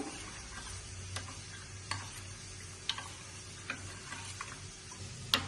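A spoon stirs cornflour into water in a small bowl, giving a series of light, irregular clinks and taps over a faint steady background hum, close and quiet, with no speech.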